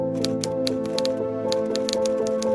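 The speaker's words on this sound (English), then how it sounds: "For Helmuth, it was time to sit down and start typing up" Typewriter keys clatter in a quick, uneven run of sharp strikes as leaflets are typed up, staying close and steady over a continuous bed of music.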